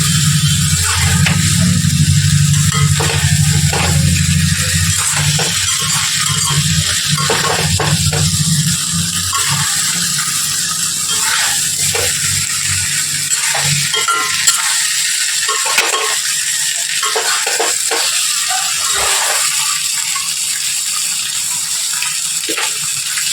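Potatoes for a Bengali winter dinner are sautéed and stirred in a pan, giving a steady close sizzle with continual scraping and stirring that carries on without pause and with no one talking.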